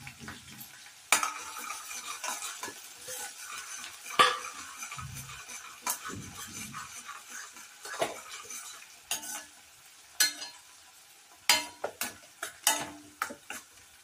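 Onion and cumin cooking in a pan for a jackfruit curry, with a soft background sizzle broken by repeated scraping and clinking strokes of a spoon against the metal, loud at irregular moments, no talking.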